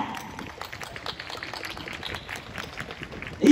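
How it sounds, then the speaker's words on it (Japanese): An audience claps at a horror-night zombie dance party hosted by a DJ, producing a steady patter of scattered hand claps at moderate volume that ends with a louder swell. "さあ拍手しやがれ。"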